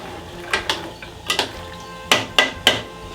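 Pasta stirred in a pot of boiling water, heard as a handful of sharp metallic clinks and scrapes of a utensil against the pot, irregular and close, with quiet gaps between strikes.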